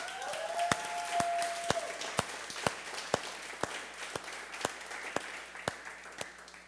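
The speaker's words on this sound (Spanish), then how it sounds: "Denle ese aplauso al Señor" A church congregation applauds God after a healing testimony, a dense spread of hand claps with regular sharper beats standing out, steady and moderately loud throughout, with a faint sustained tone sounding early on.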